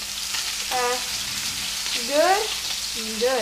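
Toady puffer fish fry in a pan with a steady, close sizzling crackle throughout, while a person talks briefly over it.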